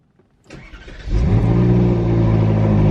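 A Ferrari 458 Spider engine cranks briefly, catches with a rising roar, then settles into a steady, deep idle close by.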